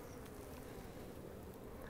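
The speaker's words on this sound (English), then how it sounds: "Lots of bees, a lot of bees that have been, they're in here becoming good field bees" Honeybees hum steadily in a dense, even drone at an opened hive during a split, faint and continuous with no voices.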